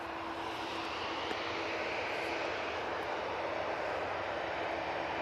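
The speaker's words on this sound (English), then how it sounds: "This is an actual 737-800 and it's off to Cologne." A Ryanair Boeing 737-800 leaves for Cologne, giving a steady, fairly distant jet engine rumble that holds an even level throughout, with a faint tonal whine and no talk.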